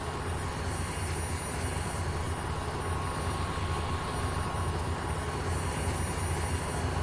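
A helicopter in the farming game Farming Simulator 17 flies with a steady, continuous rotor and engine drone that holds even and fairly quiet throughout, with no talking.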